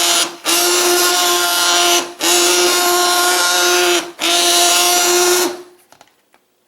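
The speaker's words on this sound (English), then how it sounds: "can't talk over my immersion blender too much" An immersion blender whirs through tomato soup in three long, loud, steady bursts separated by short pauses, then cuts off into near silence.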